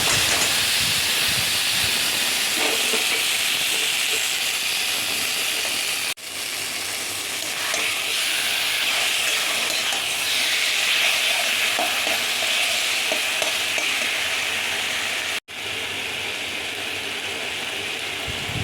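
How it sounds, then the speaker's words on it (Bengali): Taro leaves go into a frying pan with prawns and green chillies, giving a loud, continuous sizzle and hiss that lasts throughout, with stirring and two brief dips. "এবার আমি কচু শাকটা দিয়ে দিই।"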